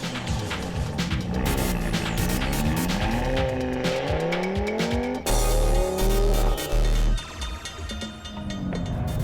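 An Audi RS3 with all-wheel drive cornering hard on a race track: loud, close engine note rising and falling through the gears, with tire squeal as it drifts out slightly through the first turn.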